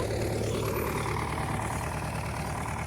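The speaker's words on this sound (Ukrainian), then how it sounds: "Трактор не пробуксовує де нормально" A tractor engine runs steadily while ploughing a field, a loud, continuous low drone with no break and no voices over it.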